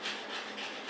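A dog recovering two weeks after brain tumour surgery pants steadily, a breathy, airy hiss that runs without a break, close and fairly loud with no voices.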